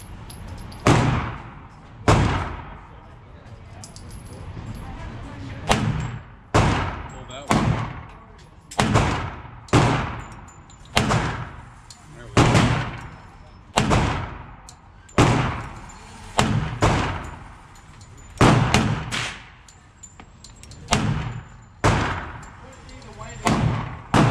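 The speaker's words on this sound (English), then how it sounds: "It's an Ed Brown custom. I'm going to look at it at the table, but I just wanted to take some shots." Loud, close gunshots from an Ed Brown custom 1911 pistol in .45 ACP fire at an outdoor range: about twenty sharp reports, spaced a second or so apart in uneven strings, each with a short decaying tail.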